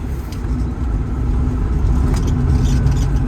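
An electric Porsche 356 conversion taken through a chicane gives a steady, loud rumble of road and wind noise with no combustion engine note, continuous and close throughout.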